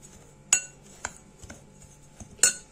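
Uttapam batter with roasted cumin, green chilli and ginger being mixed in a bowl: a few sharp, sparse spoon clinks against the bowl over a quiet room, with softer taps in between.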